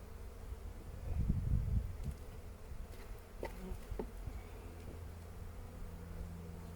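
Honey bees hum softly and steadily around an open beehive during an inspection, a faint low buzzing with a brief louder swell early on and a few small clicks of frames.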